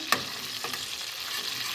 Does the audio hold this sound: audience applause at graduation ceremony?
no